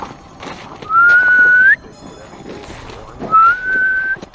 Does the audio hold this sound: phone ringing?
no